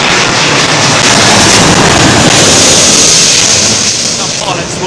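Airliner touching down on London Heathrow runway 27L, a loud, continuous broadband roar of jet engines and rushing air sustained throughout, easing slightly toward the end.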